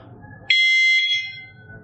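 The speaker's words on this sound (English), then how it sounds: "And then even when you stop, it will beep every 2 seconds." A remote-controlled hunting dog training collar's beeper sounds one loud, piercing electronic beep lasting nearly a second, close and alone in a quiet room.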